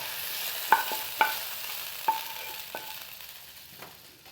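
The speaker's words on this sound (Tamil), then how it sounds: "இப்போ தாளிப்பை இதோடு சேர்த்துக்கலாம்." Tempering is stirred into a pot of boiling chicken nombu kanji, a Ramadan rice porridge. Soft sizzling hiss runs throughout, broken by a few sharp spoon clinks against the pot, with no talking.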